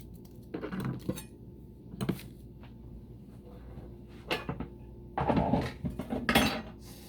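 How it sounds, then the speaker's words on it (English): A cutting board and kitchenware are put away during black bean soup prep, with clattering bursts of dishes and utensils knocking together, the loudest flurries near the start and end, and quiet pauses between. "let me get rid of the cutting board because I no longer need it"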